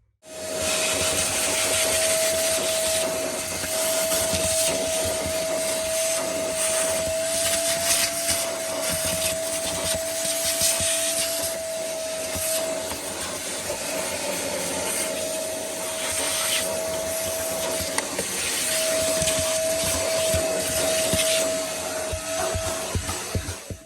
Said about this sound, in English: We'll get the vacuum in there and